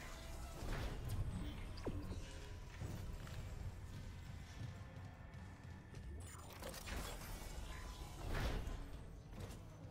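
A door opens in a video game with drawn-out creaks and mechanical clunks, a few sharp impacts and rumbling movement spread across ten seconds, moderately loud throughout.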